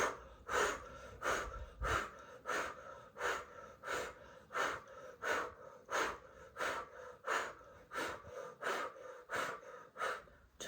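Rhythmic breaths are drawn during a kundalini yoga exercise: sharp, close inhales and exhales repeat steadily, roughly every second, with no talk over them.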